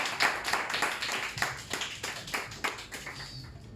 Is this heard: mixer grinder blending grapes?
no